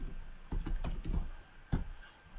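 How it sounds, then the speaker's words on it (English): Keys tapped on a computer keyboard during Java coding, a short close cluster of quick clicks followed by a single firmer keystroke after a brief pause. "I place the tab key on my keyboard"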